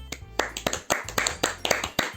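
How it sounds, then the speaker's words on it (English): Applause in the video game Doki Doki: roughly a dozen sharp, evenly spaced claps in quick succession, close and fairly loud, with no voices. "I'm the first to start applauding."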